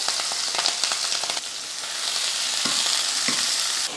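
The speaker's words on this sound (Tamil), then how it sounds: "எண்ணெய் காஞ்சதுமே கொஞ்சம் கடுகு உளுந்து சேர்த்துட்டு கொஞ்சம் கருவேப்பிலை, ஒரு வெங்காயமும் 2 பச்சை மிளகாயும் சேர்த்துக்கலாம்." Mustard seeds, urad dal, curry leaves and onion hit hot oil with a loud, dense crackling sizzle, spattering pops over a steady hiss, close and continuous without voices.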